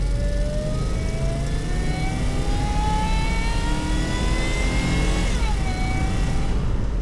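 A supercharged Range Rover engine pulls hard under throttle, its droning tone climbing steadily as it accelerates, then dropping at a gear change before rising again, loud and close amid road and wind noise.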